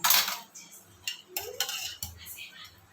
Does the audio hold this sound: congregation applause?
no